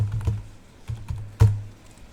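A computer keyboard clatters as a command is typed on a Windows 11 PC, a few quick close keystrokes in short bursts with a louder final press, heard alone without talk.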